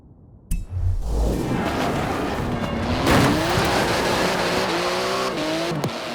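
In the Forza Horizon 4 racing game, a sports car with a 3.8-litre twin-turbo flat-six of 700 horsepower roars up loudly, its engine revving and climbing through gears in a continuous close drone with brief tire squeal.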